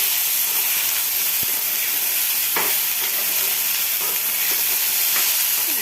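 Oil frying in a pan while cooking at home, a continuous loud hissing sizzle with a few light clicks of a spoon stirring, no talk.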